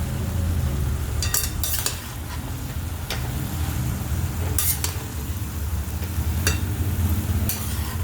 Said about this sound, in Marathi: हलवून घ्यायचं आहे गाजराचा हलवा